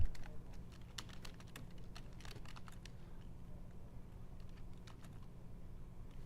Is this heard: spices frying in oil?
no